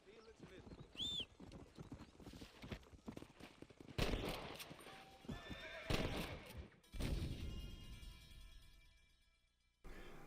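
A horse neighs and is shot in the western video game Red Dead Redemption: one sharp whinny near the start, hoof clip-clop, then several loud gunfire bursts within a busy game soundscape.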